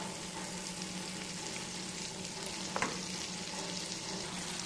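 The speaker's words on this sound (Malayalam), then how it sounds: "വെണ്ണ ഇട്ടൊരു രണ്ട് മൂന്ന് മിനിറ്റ് കഴിയുമ്പോൾ തന്നെ നെയ്യ് ഇങ്ങനെ കൊണ്ടിട്ട് അടിയിലോട്ട് പോകും" Butter melting down into ghee in a pan, giving a quiet, steady bubbling sizzle throughout, with one brief faint clink near the end.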